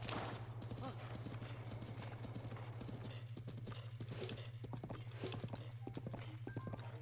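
A horse's hooves clip-clop in a fast, steady gallop in Zelda Breath of the Wild, with a low constant hum underneath and a soft whinny in places.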